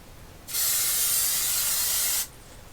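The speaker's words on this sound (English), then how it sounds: "I'm going to spray my pan down with some Pam." A single steady spray hiss from an aerosol can of Pam cooking spray onto a pan, lasting under two seconds, close and loud, then stopping abruptly.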